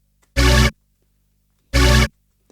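A synthesized recreation of a 90s house organ chord stab fires twice, each hit short, bright and loud, separated by over a second of silence, with no voices.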